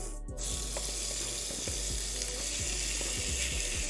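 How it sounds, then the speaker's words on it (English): Shrimp fries in a pan for pasta carbonara with a steady, loud sizzle, broken by scattered crackles and scraping clicks from a spatula. The sizzle runs unbroken from start to finish with no talk. "We cooking now. There's that sizzle, Lex."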